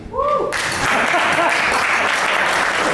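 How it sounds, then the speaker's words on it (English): An audience claps steadily and loudly for several seconds, with a short voice at the start before the applause swells and carries on without a break. "Clap for me."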